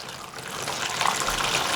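Water pours into a 1 gallon measuring cup for a lye tank setup, a steady splashing trickle that swells slightly as the container fills, close and alone without talk.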